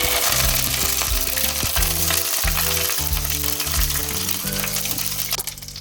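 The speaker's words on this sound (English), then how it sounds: "So as the mustard seeds start spluttering, I'm going to put in some curry leaves as well." Mustard seeds splutter and crackle in hot oil in a Kerala home kitchen, a dense steady sizzle with scattered pops beneath repeated low tonal hums, loud and close throughout.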